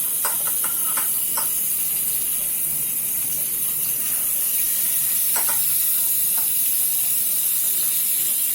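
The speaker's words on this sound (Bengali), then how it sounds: "মশলা দিয়ে 10 মিনিটের জন্য মাখিয়ে রাখা মাছগুলোকে আমি এখন ভেজে দিব, তাই তেল গরম করতে দিয়েছি।" Fresh fish marinated in spices fries in hot oil, a loud continuous hiss and sizzle filling the space, close with occasional faint clatters and no voices.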